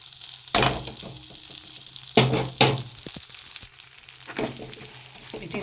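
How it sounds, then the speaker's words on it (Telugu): Moong dal and flattened rice fry together in a pan over a low flame, with a soft steady sizzle broken by a few louder scraping stirs. "రెండింటిని బాగా ఫ్రై చేసుకుందాం నేను సిమ్లోనే పెట్టి ఫ్రై చేస్తున్నాను"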